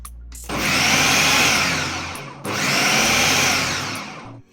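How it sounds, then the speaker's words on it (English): A food processor runs in two loud bursts, a steady motor whir that drops briefly between them, while mixing flour for meat pie dough. "let's use our food processor to finish up our dough of meat pie"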